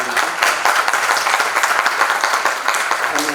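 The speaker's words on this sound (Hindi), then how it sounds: "एक बार सर के लिए जोरदार ताली" An audience applauds a guest at a university cultural program in Darbhanga, giving steady, dense clapping for a few seconds with no talk over it.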